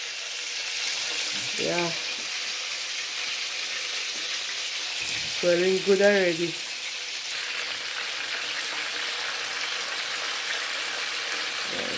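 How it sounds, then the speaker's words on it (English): Chicken pieces browning in oil in a pot for Jamaican brown stew chicken, a steady close sizzle running throughout with a couple of brief spoken remarks over it. "So guys, the meat frying up."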